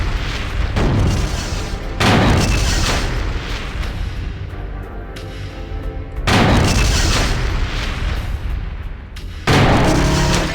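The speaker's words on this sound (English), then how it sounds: "Just keep shooting. Just shoot lockers." Repeated gunfire in Killer7 aimed at school lockers, heavy booming shots in spaced bursts with ringing decays between them, loud and close.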